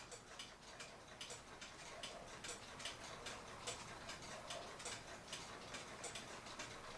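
A 1940 colored Lux cuckoo clock ticks in a steady, even rhythm, faint and close, each crisp tick repeating alone without talk.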